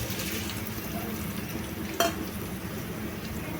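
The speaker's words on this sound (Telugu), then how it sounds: "దీన్ని కూడా అదే మాదిరి ఇలా ఫ్రై చేసుకోవాలన్నమాట." Chicken pieces for chicken pickle fry in a pan with a dense, steady close sizzle and light stirring, plus one sharp utensil clink partway through.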